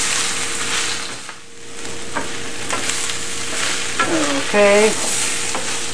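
Vegetables with bamboo shoots and baby corn sizzle steadily while being stir-fried for kung pao tofu, with occasional scrapes of stirring and a brief spoken word near the end.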